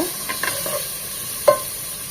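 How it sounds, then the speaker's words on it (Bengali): Chicken frying in a pan for noodle soup, a bright steady sizzle with a few light stirring clicks and one sharper knock, near and moderately loud with no voices. "তিন থেকে চার মিনিট চিকেনটাকে ভেজে নেব"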